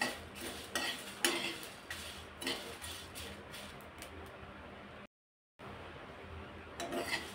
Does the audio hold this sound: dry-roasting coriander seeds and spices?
yes